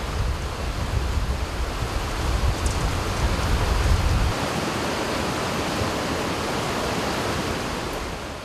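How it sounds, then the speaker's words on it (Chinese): Heavy monsoon downpour over Jialan village in Taiwan during the 2012 plum-rain floods: a dense, continuous roar of rain, loud and steady throughout, with no voices. "滂沱大雨中"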